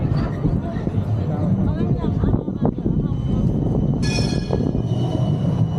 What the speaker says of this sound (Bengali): দেখতে পাচ্ছ আমার সামনে একটা ট্রাম আসছে